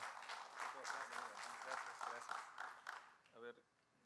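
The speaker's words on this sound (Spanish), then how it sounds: "Lo recibimos con un fuerte aplauso, por favor." An audience at a legal lecture in Chiclayo applauds a civil court judge as he is welcomed, a steady wash of clapping that fades out near the end.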